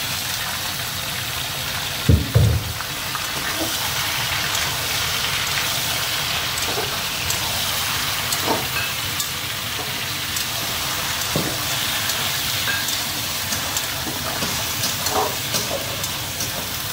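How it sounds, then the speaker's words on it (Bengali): Black pepper chicken frying in a pan gives off a steady, dense sizzle and hiss throughout, with a few faint clinks and knocks scattered on top. "এটা আমি একটু ভাজা করে নিই, বেশ কিছুক্ষণ ভাজবো।"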